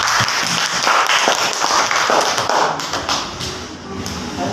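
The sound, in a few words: applause for Rena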